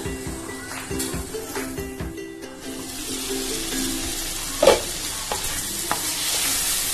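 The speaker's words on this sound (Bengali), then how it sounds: "এবার এই সব কিছুকে নরম হওয়ার জন্য একটু চাপা দিয়ে রান্না করব।" Tomatoes and potatoes cook under a lid in a pan for a Bengali mourala fish curry, giving a steady low sizzle and bubbling, with a brief clink of the lid or utensil partway through.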